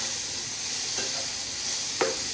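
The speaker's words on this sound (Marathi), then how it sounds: "व्यवस्थित मिक्स करून घेऊयात" Steady frying hiss from a pan of dangar bhaji vegetable curry, with a few soft spoon scrapes as it is stirred and mixed, close and even throughout.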